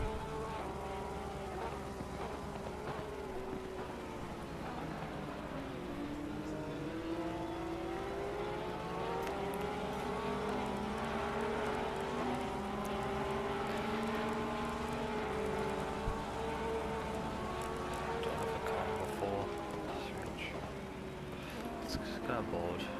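Race cars, including car number 50, lapping in a Season 1, Round 2 race: steady engine drones rise and fall in pitch as several cars pass, heard continuously under ongoing commentary.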